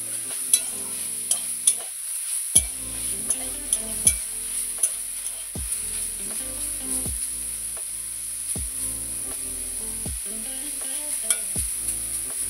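Drumstick flowers fry in a pan with a little sugar, a steady close sizzle punctuated by regular sharp scrapes and knocks of a spatula stirring against the pan.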